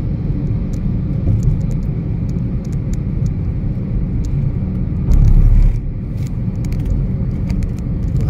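A car driving along a flyover in Delhi at around the 50 km/h limit, a steady loud road and engine rumble from inside the cabin, with a brief heavier surge midway.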